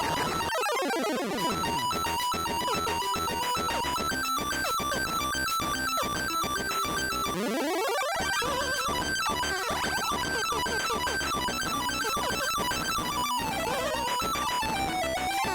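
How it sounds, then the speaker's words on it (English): Chiptune guitar-riff music from the Donkey Kong Game Boy game, a busy, bright electronic melody with rapid beeping notes and steady percussion playing continuously, with two brief sweeping effects along the way and no talking. "The guitar solo for the Donkey Kong game."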